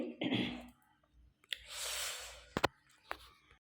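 A few scattered coughs and throat-clearing sounds from incense smoke, soft and somewhat distant, with a breathy exhale in the middle and short clicks between.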